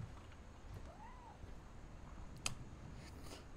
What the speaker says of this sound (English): Hey, it's the kitty cat.